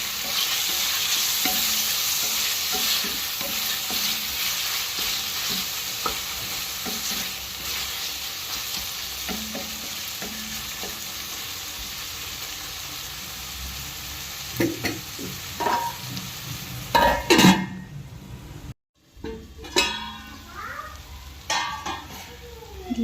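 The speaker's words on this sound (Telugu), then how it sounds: "ఉల్లిగడ్డల్లో సన్నగా తరిగి పెట్టుకున్న టమాటాలను వేసి వేయించుకోవాలి." Finely chopped tomatoes frying with onions in a pan for a taro curry: a continuous close sizzle with regular spatula scrapes, ending in a few louder clanks and a brief pause before stirring resumes.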